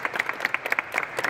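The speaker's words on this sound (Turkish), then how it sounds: "Ben kendinize alkışlamanızı talep ediyorum." Audience applause at a youth and sports directorate gathering in Pazar, a dense burst of hand clapping from a crowd that stays steady and fairly close throughout.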